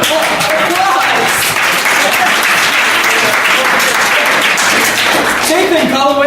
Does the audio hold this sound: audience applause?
yes